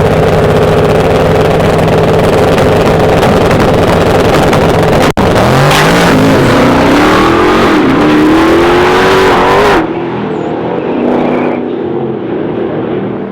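A race truck at a truck nationals event makes a loud test pass down the track, engine roaring and revving hard as it climbs in pitch, then cutting off abruptly to a quieter background rumble.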